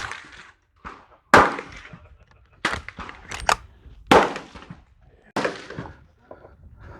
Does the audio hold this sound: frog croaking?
no